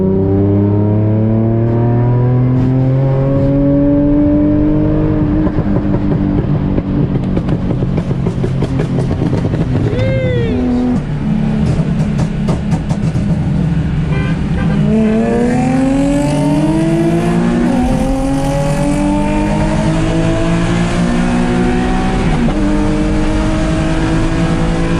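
Nissan 350Z engine revs hard and loud up close, repeated climbing and falling throttle sweeps with crackling bursts, continuous over twenty-five seconds with no talking.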